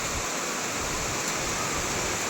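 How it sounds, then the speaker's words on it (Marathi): Heavy May rain pours down outdoors in Mumbai as a steady, dense, broadband hiss with no let-up, loud and close throughout, with no voices. "किती जोरात पाऊस पडतोय बघा, किती जोरात पडायला लागलाय."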